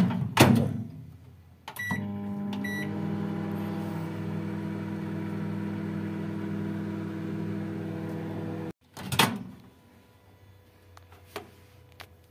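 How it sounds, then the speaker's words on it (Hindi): A microwave oven warms frozen ghee with a steady humming drone lasting several seconds, framed by a few sharp clicks and a thump near the start and end. "घी जमा हुआ है तो इसको मैं ओवन में गरम कर लूँगी"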